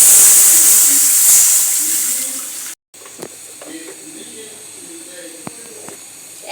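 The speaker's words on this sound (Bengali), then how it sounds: "এখন আমি ময়দার মধ্যে লিকুইড 1 বাটি দুধ দিয়ে দিব।" Milk poured into browning flour in a pan for a pasta white sauce gives a loud, steady sizzling hiss that drops off, then settles into a quieter bubbling with faint clicks.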